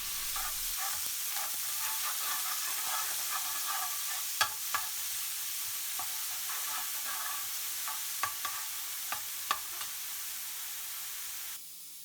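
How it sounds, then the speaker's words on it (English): Grated onions fry in oil in a pan over medium heat, sizzling and crackling steadily with occasional louder pops and stirring clicks, close up and without talk. "Heat up the oil in a pan on medium heat and add the grated onions, frying until they are almost soft."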